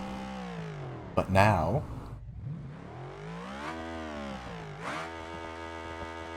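A 4.4-litre V8 in an ETK car in BeamNG.drive revs up and down in a tonal engine whine that swells and falls across several sweeps, with someone talking briefly.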